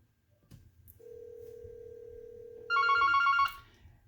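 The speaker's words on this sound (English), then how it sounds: "So I'm going to give Karen a call" Yealink T54W desk phone placing a call: a steady single ringback tone runs for about two seconds, then a brighter, louder harmonic ring bursts briefly before cutting off, heard alone in a quiet office.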